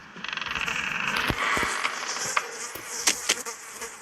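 Flies buzzing in the video game Hello Neighbor, a close, continuous droning hum with several sharp clicks and ticks scattered over it.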